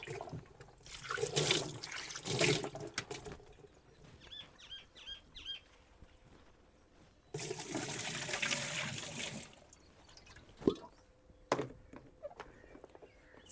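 Water is splashed and poured over a washing machine while it is being washed at home, with bursts of splashing early on, a longer rushing stretch midway and quieter drips and knocks between them.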